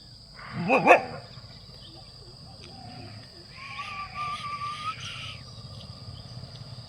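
A stray dog gives a quick burst of sharp barks in a village, then fainter, more distant dog calls drift over a quiet outdoor background.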